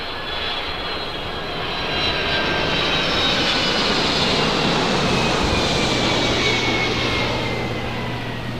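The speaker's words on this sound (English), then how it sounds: "First arrival here on the north side, Delta Airlines flight 773, coming in from New York, 767-300ER." A Delta Airlines Boeing 767-300ER jet arriving at Los Angeles International Airport roars loudly and steadily overhead, its engine whine swelling slightly mid-pass before easing, with no voices.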